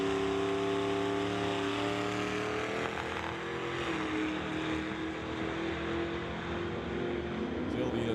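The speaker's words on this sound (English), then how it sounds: "Sylvia's in the 66 Mustang and Andy's in the Chevy Apache." A 1966 Ford Mustang and a Chevy Apache pickup drag racing at an old-time drags event, engines droning steadily loud and sustained with shifting pitch, a voice talking over the roar.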